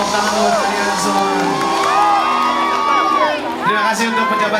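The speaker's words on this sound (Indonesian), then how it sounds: "Tepuk tangan buat kalian semua." A concert crowd at a live show for the 354th anniversary of South Sulawesi province cheers loudly, with whoops and shouting voices rising and falling over several seconds and a brief dip near the end.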